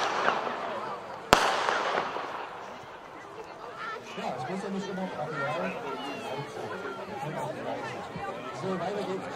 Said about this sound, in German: die Gold Blue Batterie, diesmal eine 10-Schuss Batterie, Nummer 5, Gold Blue, Gold blaue Effekte, hier mit 10 Schuss.